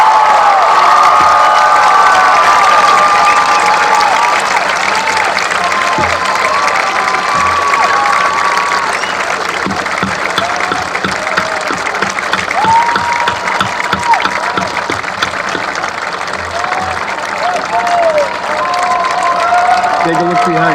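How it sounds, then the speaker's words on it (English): Loud, continuous applause and cheering from a large commencement crowd for the graduating class of 2019, with whoops and shouts rising over sustained clapping throughout. "let's have a round of applause for the class of 2019"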